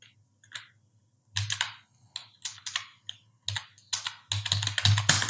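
Typing on a computer keyboard, close and crisp, comes in short bursts of clicking keystrokes separated by pauses, the final burst faster and denser, with no voices.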